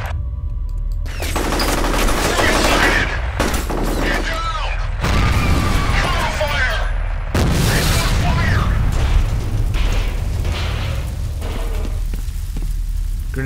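Grenade explosions and bursts of gunfire in the shooter game F.E.A.R., with heavy booms and rattling shots layered densely, loud, while someone talks over the action.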